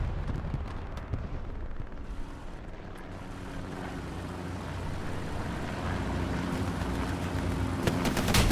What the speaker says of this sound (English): Jumbo continues to take rockets